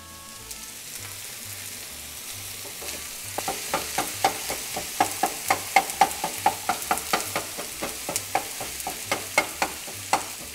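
Tomatoes tossed into a hot pan of ground beef for a burrito filling sizzle loudly, with a steady frying hiss and a dense run of quick, close crackles and pops rising after the first few seconds.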